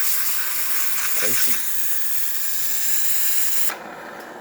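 A Saeco Xelsis Evo espresso machine's steam wand hisses loudly and steadily for several seconds before cutting off sharply, with a brief spoken exclamation over it.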